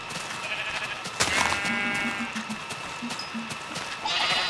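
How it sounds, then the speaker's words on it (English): Sheep bleat in Minecraft on Xbox 360, several short, nasal bleats in a row, fairly close and clear over faint background game sound. "shall I breed the sheep?"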